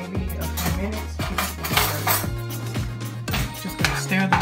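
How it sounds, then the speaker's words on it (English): A spoon stirs cowboy beans in a cooking pot on a kitchen stove, clinking and scraping against the metal in quick repeated strokes, close and clear. "just gonna stir the beans up"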